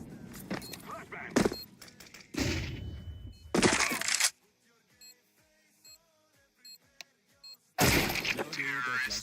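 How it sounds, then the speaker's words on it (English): Counter-Strike match gameplay: sharp broadband bursts of a flashbang and gunfire come in several loud clusters, separated by a quieter stretch of small clicks and tonal ticks. "Flashbang."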